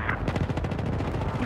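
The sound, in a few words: gunfire in a first-person shooter video game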